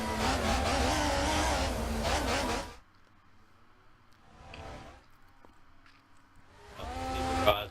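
In a racing video game at a safety car restart, a voice talks at first, then race car engines rise in short revving bursts, faint at first and louder by the close.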